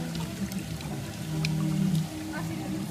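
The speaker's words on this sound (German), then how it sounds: "Stöpsel beim Brunnen ziehen, dreckiges Wasser raus." Dirty water draining from a fountain trough after the plug is pulled, a gurgling, pouring rush under nearby talk and outdoor noise.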